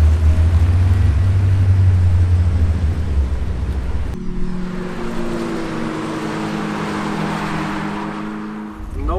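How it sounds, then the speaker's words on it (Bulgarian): A new BMW M5 on a race track with its louder exhaust mode engaged, a deep engine rumble that shifts partway through into a rising, tonal drone with a throaty edge, close and continuous. "Също така имате и бутонче с ауспус, което прави ауспуха от шумен, доста по-шумен. Наистина колата звучи много добре."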